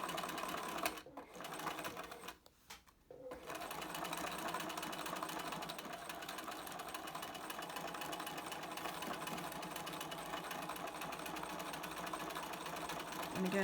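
A home sewing machine runs steadily, stitching along the long straight edge of a fabric mask, a continuous mechanical whir that pauses briefly near the start before resuming and holding close and even throughout.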